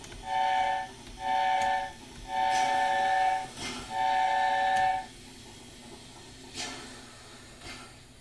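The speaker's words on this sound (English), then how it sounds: "So this is the A4, famous A4 chime whistle." In the Train Sim World 2021 game, an LNER A4 steam locomotive sounds its chime whistle in four loud sustained blasts, the last two longer, each with a layered chord tone, followed by quieter rail ambience.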